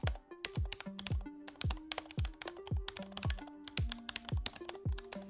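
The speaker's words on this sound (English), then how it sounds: "The Cherry low profile mechanical keyboard might be a little loud and very clicky" Fast, loud, clicky typing on the Cherry low-profile mechanical keyboard of an XMG Neo 16 gaming laptop, keystrokes landing in quick irregular bursts, close and alone.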